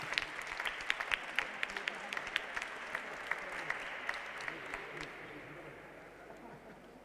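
An audience in a sports hall claps for a young chess tournament winner at a trophy ceremony. The applause is fairly faint and distant, with scattered sharp claps that gradually thin and fade toward the end.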